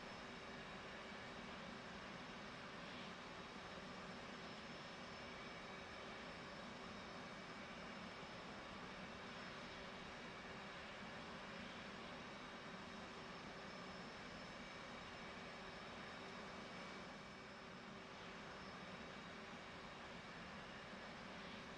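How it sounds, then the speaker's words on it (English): A jet aircraft's left engine cranking in a flight simulator, a steady broadband whine and rumble that holds evenly throughout, with no speech. "Now it is time to crank the left engine."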